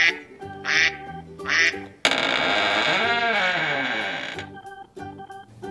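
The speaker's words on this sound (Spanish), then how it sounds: "¡Es el pato!" A duck quacks in short nasal bursts, then a long, loud, processed-sounding quack sweeps on for about two seconds before a few softer quacks follow, all set over light background music.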